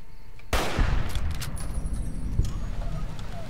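Hunting rifle fire in Fallout: New Vegas, a sudden loud shot followed by a long rumbling echo and a second, smaller blast, with game ambience behind it.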